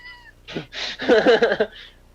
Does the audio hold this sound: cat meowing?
yes